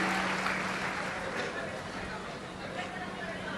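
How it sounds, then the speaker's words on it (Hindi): A large audience at a Shiv Mahapuran religious discourse claps together in a steady, dense wash of applause that fades slightly over a few seconds, with some voices mixed in. "एक बार जोरदार ताली बजाकर इन सभी के लिए स्वागत वंदन।"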